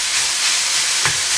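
Lean beef mince sizzling in olive oil in a pan, a steady broadband frying hiss throughout with a brief louder spit near the end; no talking.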